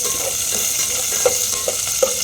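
Green chillies fry in hot oil with mustard seeds and cumin, giving a steady close sizzle broken by several sharp stirring scrapes.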